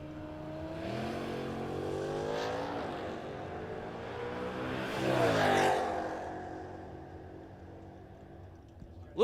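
Drag race at a racetrack, a blue Camaro against a Mustang, engines howling and rising in pitch as the cars launch and pull away, loud and sustained, then fading toward the end.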